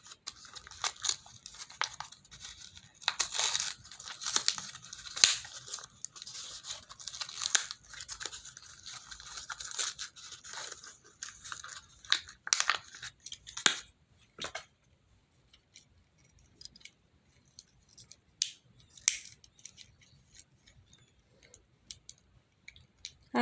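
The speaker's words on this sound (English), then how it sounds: "I did have my scissors over here so I could cut like a little bit of it." Scissors snip and crunch into a small fidget toy, a string of close, quiet clicks and crisp cuts, denser at first and then sparser with pauses between.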